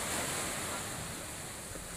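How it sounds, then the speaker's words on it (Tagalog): Strong sea waves roar during a typhoon outside a seaside hut at night, a continuous dense wash of surf and wind noise, loud and unbroken with no talk. "malakas yung hangin sa labas, malakas yung alon"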